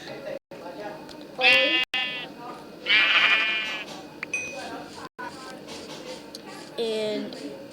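Sheep in a video game bleat in several clear, near calls, while a player talks over and between them.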